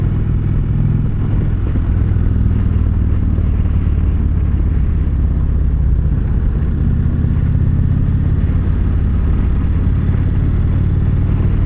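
2019 Indian Chieftain Darkhorse motorcycle accelerating on a demo ride at Americade, heard from the rider's position as a loud, deep engine rumble mixed with heavy wind roar that swells and eases slightly across the run.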